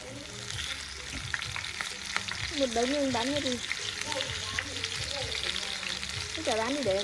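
Tofu frying in hot oil, a steady loud sizzle and crackle filling the whole stretch, with occasional clinks of utensils stirring in the pan.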